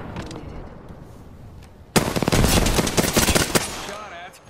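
Automatic weapon fire in the Apex Legends shooter game breaks out suddenly after a quieter stretch, a loud dense burst of rapid gunshots lasting about two seconds before tapering off.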